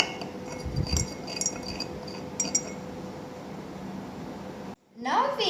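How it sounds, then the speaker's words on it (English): A glass rod stirs common salt into water in a beaker, giving a few light, quick glassy clinks near the start amid soft background hiss, followed by a voice at the end. "Mix it well with the help of the glass rod."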